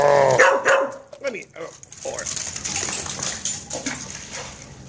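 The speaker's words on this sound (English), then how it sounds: "Stop barking." A dog barks several times close by in a backyard near a pool, with short sharp barks early on, followed by a person talking over rustling background noise.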